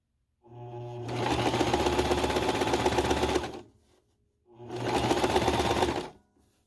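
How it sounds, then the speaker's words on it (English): A sewing machine runs a loose basting stitch on knit fabric in two steady bursts of rapid whirring, about three seconds and two seconds long, with a short pause between, loud and close. "So a loose basting stitch and gather so I can attach it to the top"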